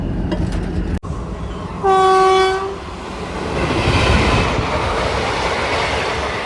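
Close DEMU express train noise with a loud, sustained horn blast early on, followed by steady rumbling and clacking of the moving carriages.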